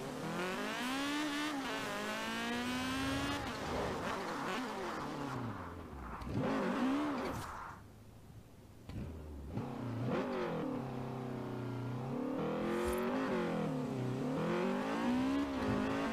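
A Honda Prelude Si in Forza Horizon 4 revs hard through a 0-100 run, its mid-pitched engine climbing in rising sweeps with gear-change dips and a brief lull near the middle, loud and continuous with no talk.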